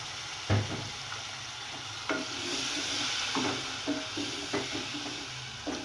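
Tomatoes stirred into a frying spice masala with ridge gourd (turai) in a pan: a low constant sizzle carries repeated scraping thumps from the spoon at irregular intervals, near and clear with no voice.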